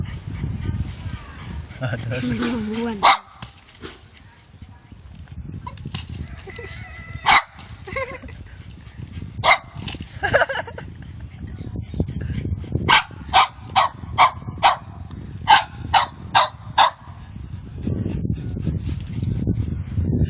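A dog barks up close in a series of sharp, loud barks, some isolated and then a quick run of about ten in a row, while people talk throughout.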